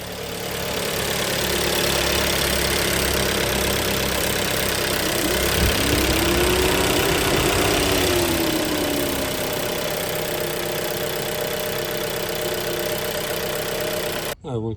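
A car engine idles steadily with a constant low hum that is loud and close, under a shaking and power-loss fault, then cuts off abruptly at the end.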